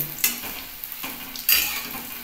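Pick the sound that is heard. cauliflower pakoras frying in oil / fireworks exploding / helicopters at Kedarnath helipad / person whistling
cauliflower pakoras frying in oil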